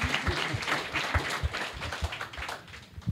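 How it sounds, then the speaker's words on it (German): Steady applause from a group at a youth hackathon in Cologne, many hands clapping at once for about three seconds, fairly close and even in loudness. "vielleicht einen kleinen Applaus dafür"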